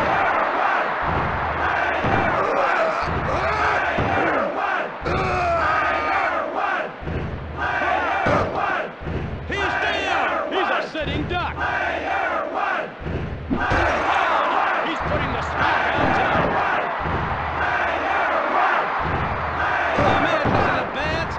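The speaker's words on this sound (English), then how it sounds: "This crowd is deafening." A wrestling arena crowd in the WWF Warzone video game roars and chants continuously, loud and dense, swelling in rhythmic waves with thuds and slams from the ring mixed in.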